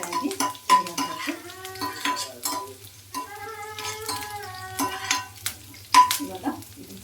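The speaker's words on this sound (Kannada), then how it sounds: "ಇದು ಎಣ್ಣೆಯಲ್ಲಿ 1 ನಿಮಿಷಗಳ ಕಾಲ ನೀಟಾಗಿ ಫ್ರೈ ಆಗಬೇಕು" Curry leaves frying in hot oil in a pan, with a soft steady sizzle under repeated clinks and scrapes of a spoon stirring against the metal, close and moderately loud, no talking.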